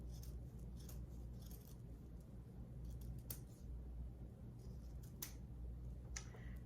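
Scissors make quiet, scattered snips while trimming around the edge of a fabric potholder, over a low steady background hum.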